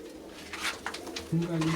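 Pigeons coo softly in a loft, a breeding pen holding two pairs of racing pigeons, their low murmuring calls rising clearer toward the end while someone talks over them.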